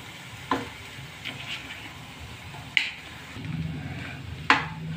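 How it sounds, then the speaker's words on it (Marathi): Potatoes tipped into a hot tempering of turmeric and salt in a pan, giving a steady frying sizzle with three sharp clatters of food or utensil hitting the pan, close and clear. "आता याच्यात आपण हे बटाटे टाकून घेऊया।"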